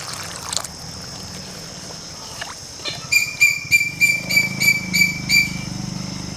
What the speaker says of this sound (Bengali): এখন এর মধ্যে দিয়ে দেব জল।